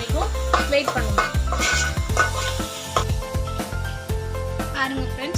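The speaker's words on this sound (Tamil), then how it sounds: "இதை போட்டு இந்த வெங்காயத்தோட இந்த மிளகாத்தூள் நல்லா வதங்குற வரைக்கும் வெயிட் பண்ணுவோம்" Onion and chili powder fry in oil for karuvadu thokku, a steady close sizzle with occasional utensil clinks against the pan, heard beneath sustained melodic tones.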